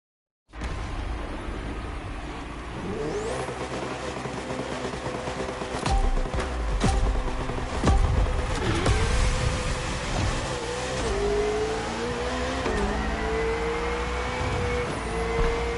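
A Ferrari's engine revs hard in the racing video game The Crew Motorfest, a loud, sustained roar that climbs through gear changes with rising pitch sweeps and brief tire noise, with no talk over it.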